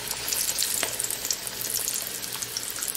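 A papad paneer roll frying in oil at high heat gives a dense, continuous sizzle with scattered crackles and pops, close and steady throughout.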